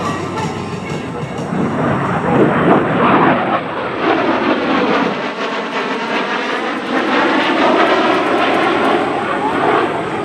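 A US Navy F/A-18F Super Hornet roars loudly overhead at an airshow in a sustained rush of engine noise, its pitch sweeping slightly as it passes close by.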